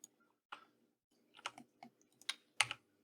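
Sparse clicks of computer keyboard keys being pressed for Blender shortcuts, a handful of separate close taps at uneven intervals against near silence.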